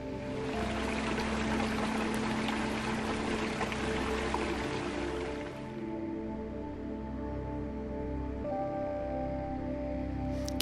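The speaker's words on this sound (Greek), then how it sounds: "Και φτάσαμε στο κρυφό νερό," Water flows and splashes from the Kryfo Nero natural spring on Parnitha mountain, a continuous pouring trickle close by that drops to a quieter, thinner stream midway and carries on steadily.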